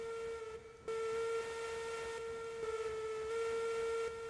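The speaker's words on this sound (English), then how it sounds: "Did you hear the screeching noise it made for a second there?" A locomotive in the Railroads Online train game gives a loud, steady, shrill whistle-like screech with strong harmonics. It holds for about four seconds with one short dip near the start.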